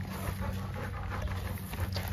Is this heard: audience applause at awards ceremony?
no